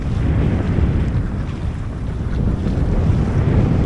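Strong wind roars steadily across a sailboat under way between Symi and Bozburun, a dense, continuous rush with boat and water noise mixed in, loud and close throughout with no talk.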